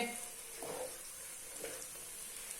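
Halwa roasting in a pan over a low flame: a very faint, quiet hiss with two brief soft scrapes of stirring, heard alone and distant.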